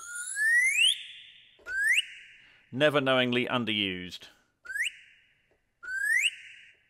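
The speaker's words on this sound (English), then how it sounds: "Slide whistle." Slide whistle from the Project SAM Animator sample library, played in four quick upward-gliding swoops, loud and close, with a stretch of talking in the middle.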